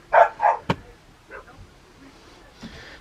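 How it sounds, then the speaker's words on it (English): A dog barks twice nearby, two short sharp yaps, followed by a click and faint background sounds with a soft distant bark near the end. "That dog's been barking all day."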